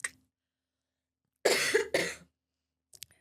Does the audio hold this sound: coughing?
yes